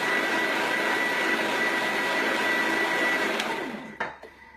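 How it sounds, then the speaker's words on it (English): Thermomix blending blueberry and orange ice cream with essential oil, a loud steady whirring roar that runs on and then cuts off near the end, leaving a couple of brief knocks. "if you don't have a Thermomix, you can just use any food processor or even just a blender"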